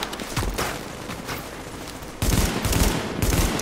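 Sustained bursts of automatic gunfire in The Division's Dark Zone co-op shooter, crackling continuously and growing louder and denser partway through, with no talk over it.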